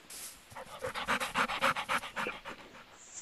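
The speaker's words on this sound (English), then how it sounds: "I'm riding on a dog!" Rapid rhythmic dog panting from a Minecraft video game, a steady series of breathy huffs that swells in the middle and fades out, heard alone without talk.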